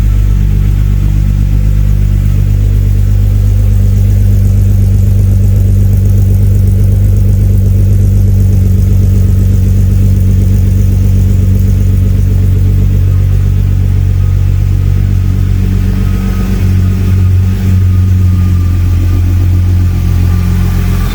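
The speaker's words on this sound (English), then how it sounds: "This is a Vr6 Burble." A naturally aspirated VR6 engine idles with a deep, steady exhaust burble, loud and close, its low rumble running unbroken throughout with no talk.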